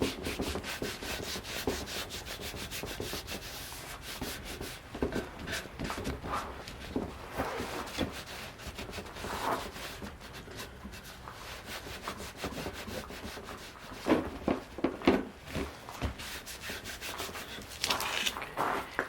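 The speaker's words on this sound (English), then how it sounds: "I'm going to go over the whole piece, rubbing quite aggressively to make sure that I get an ultra fine layer" Shellac finish being rubbed onto a wooden piece with an applicator, a soft continuous scrubbing and swishing with repeated back-and-forth strokes, close and fairly quiet, occasionally a bit more vigorous.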